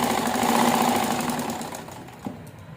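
A sewing machine stitches a strip of fabric around a garment neckline with a steady, fast mechanical whirr that slows and stops near the end, close up and with no talking.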